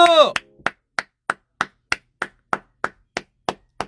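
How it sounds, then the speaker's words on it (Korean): A brief spoken exclamation gives way to one person clapping on an Instagram live stream: about a dozen sharp, evenly spaced claps, close and crisp, with silence between each. "박수!"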